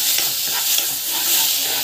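A lentil and cumin puree sautés in a hot pan, giving a steady close sizzle with the soft scrape of stirring throughout.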